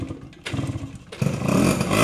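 A two-stroke Yamaha V80 motorcycle used for daily riding idles with a rapid, uneven putter, then revs up into a louder, steadier buzzing roar close by.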